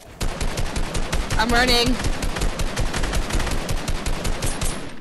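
Rapid automatic gunfire in Fortnite, a dense continuous stream of shots that stays loud throughout, with a player talking over it.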